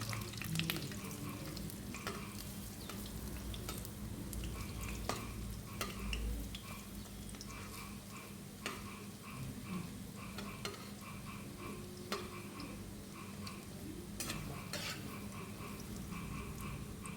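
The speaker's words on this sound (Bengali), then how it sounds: "এবার কড়াইটায় কিছু পরিমাণে তেল দিয়ে আমি প্রথমে এই ডালের বড়াটা ভেজে নেব।" Lentil fritters (dal bora) frying in oil in a wok, a continuous quiet sizzle and crackle with occasional utensil stirs and clinks, while frogs croak rhythmically in the background.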